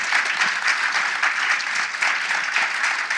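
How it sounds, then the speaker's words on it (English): Audience applause for three experts at a shark science talk at a marine research and rescue center: steady, dense clapping from a crowd, filling the whole stretch at an even, fairly close level. "if we get a round of applause for the 3 experts that are sitting up here,"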